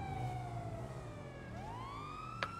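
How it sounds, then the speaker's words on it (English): Police sirens wail steadily in GTA 5 during a role-play house robbery, a continuous rising and falling tone with a deep engine rumble beneath and a brief sharp knock near the end. "the sirens are getting further"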